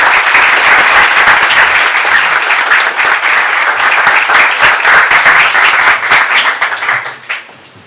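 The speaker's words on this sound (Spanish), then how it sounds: "les quiero pedir a todos ustedes que le rindamos un aplauso" Sustained, dense applause from a seminar audience welcoming a doctor as guest speaker at a communications conversatorio; loud and steady throughout, tapering off in the final second.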